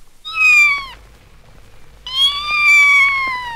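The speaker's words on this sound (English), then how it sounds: "Mewed the kitten," Two clear, drawn-out kitten meows, the second longer and wavering, close by with a brief quiet pause between them.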